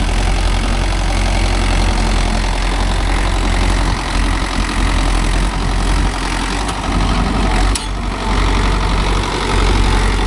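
A Mahindra Yuvo Tech Plus 585 4WD tractor engine runs loudly and steadily on a field, a constant heavy diesel rumble that barely changes, with brief dips as it works.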